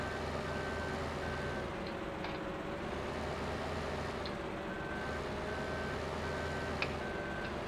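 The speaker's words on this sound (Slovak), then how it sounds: "Idem k tebe s tým kamionom." A truck drives steadily in the Farming Simulator 2015 video game, its engine droning continuously at an even level, and reversing beeps repeat in the background. There is no talk.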